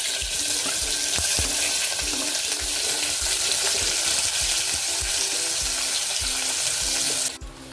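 Red onions hit hot sunflower oil in a cooker, a loud, steady frying sizzle that hisses on continuously with soft stirring clicks, ending with a sudden shift near the close.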